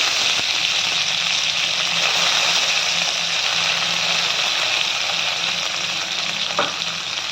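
Boiled green chillies frying in a pan for a village-style gravy, a continuous loud sizzle and hiss with occasional stirring scrapes, no voices.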